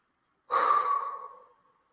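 A single deep breath blown out as part of a guided relaxation exercise, close and soft, rising quickly and tapering away over about a second with no talking.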